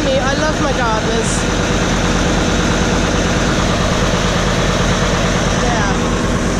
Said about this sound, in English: I do like the old school gardener diesel